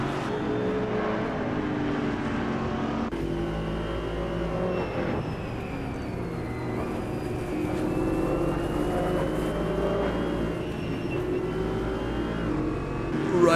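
Chevrolet Camaro and Mercedes-AMG touring race cars in the AMS2 racing game on a street circuit in Adelaide, engines droning steadily at high revs with a faint whine and shifting pitch, continuous and fairly loud.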